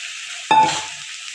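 Fried taro pieces dropped into a pan of spiced masala, bursting into a loud sudden sizzle that quickly settles into a softer frying hiss.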